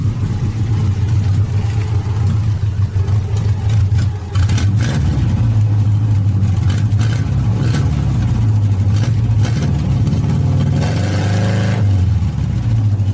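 An old Saab, started after 30 years in a garage, revs hard with its rear wheels spinning in mud, a loud steady engine drone that dips briefly and climbs again, close up with no talking.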